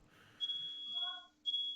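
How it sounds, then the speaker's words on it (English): A fire alarm beeps in two shrill, faint tones a second apart, over a low steady hum with faint talk underneath. "Fire alarm going off."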